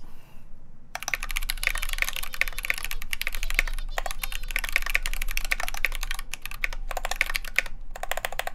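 Rapid keystrokes on a Tofu mechanical keyboard fitted with unlubed Zealios V2 78g switches during a typing test, a dense steady clatter of close clicks and thocks running almost continuously after a brief quiet start.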